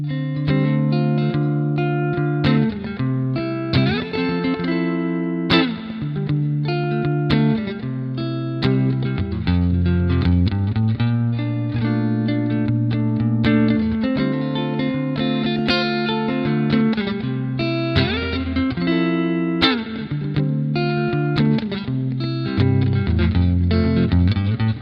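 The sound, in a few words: guitar played through Fender Twin Reverb amp, clean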